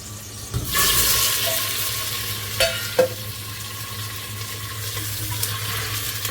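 Spices for a tempering drop into a hot pan with a sudden burst of sizzle that settles into a steady frying hiss, broken by a few sharp clinks of a utensil.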